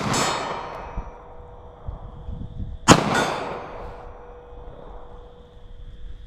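A single loud gunshot cracks out near the middle from a handgun firing .380 ACP or .38 Special Underwood XTP ammunition outdoors, followed by a fading echo over a quieter background.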